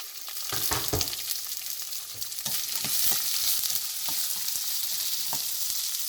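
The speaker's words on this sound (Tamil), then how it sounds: "நான் பெரிய வெங்காயம் சின்ன சின்ன வட்டி எடுத்து வச்சுக்கிறேன் அதை போடுறேன்" Sliced big onions frying in a pan as paneer chukka is prepared, giving a steady close sizzle with intermittent scraping stir clicks and no speech.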